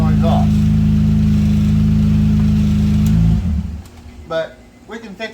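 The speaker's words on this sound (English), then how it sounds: "Right now it sounds like a racer car with no exhaust." A 2005 Acura MDX engine with no exhaust muffler rumbles loud and low at idle for about three seconds, then cuts off, leaving quieter background sounds and brief faint noises.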